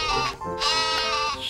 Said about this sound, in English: Get back with the other sheep.